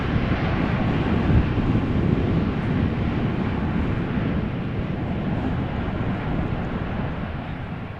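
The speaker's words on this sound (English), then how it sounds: "Now my tripod is still battling the wind." Strong gusting wind buffeting a camera tripod on an early morning at Amsterdam Schiphol Airport in a crosswind: a loud, continuous low roar with rumbling fluctuations throughout, no voices.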